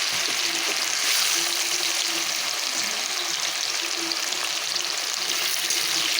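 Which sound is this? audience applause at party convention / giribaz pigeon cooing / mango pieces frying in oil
mango pieces frying in oil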